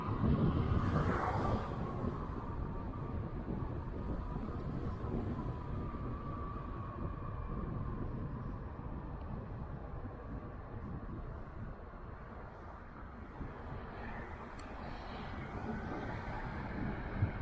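Steady low wind buffeting and rumble roars across the microphone throughout a night bicycle ride, with no talking, a continuous gusty noise while moving outdoors.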